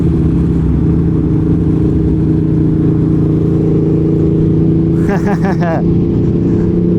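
An Aprilia Tuono V4 1100 Factory motorcycle cruising on a highway: a continuous, even engine drone under heavy wind noise, loud and close, with a short burst of voices near the end.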